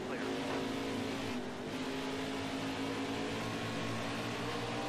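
Race cars roar past on track in the NASCAR Heat video game, a steady, fairly faint engine drone with a passing pitch sweep, under a player's commentary.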